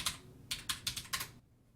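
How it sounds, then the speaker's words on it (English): Someone types on a computer keyboard: six crisp, close key clacks in an uneven rhythm, then quiet. "I'll do that by typing npm install"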